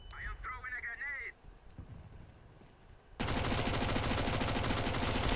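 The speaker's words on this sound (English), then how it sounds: "I am throwing a grenade." A grenade detonates in the video game CS:GO, a sudden loud burst of dense noise that holds steady to the end, preceded by quieter game sounds and a faint voice.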